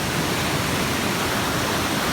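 A steady, dense roar of Phromlok Waterfall in Nakhon Si Thammarat, Thailand, fills the air, constant and broadband with no other sounds.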